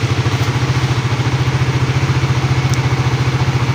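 A Suzuki Raider 150 Fi motorcycle engine with about 90,000 km, freshly refreshed, idles close up with a fast, even putter and low thumping pulses, steady and fairly loud, with no voices.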